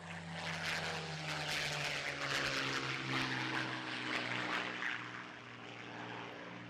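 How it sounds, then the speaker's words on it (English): A Spitfire's Rolls-Royce Merlin piston aircraft engine drones steadily and loudly with a deep, throbbing growl and rich harmonic tone, holding close and constant throughout. "we have that wonderful sound of a Merlin engine"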